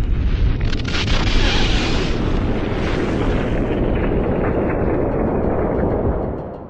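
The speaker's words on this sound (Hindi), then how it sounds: "दुनिया के पहले एटॉमिक बॉम्ब के विस्फोट को देखा था।" The world's first atomic bomb explosion near Los Alamos, New Mexico, as staged in the Oppenheimer film: a loud, sustained, deep roaring rumble like a blast wave that holds steady, then tapers off at the end.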